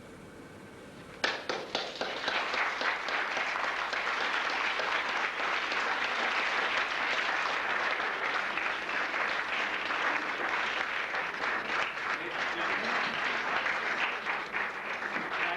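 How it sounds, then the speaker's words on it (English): An audience breaks into sudden, sustained applause at the end of a reading of the play "Goa," a dense wash of clapping that holds steady for over ten seconds. "thank you for your warm applause"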